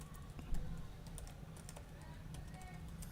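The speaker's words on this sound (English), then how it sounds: "I will type" Keys clatter on a computer keyboard in quick, steady taps, close and faint over a low background hum, with no speech during the typing.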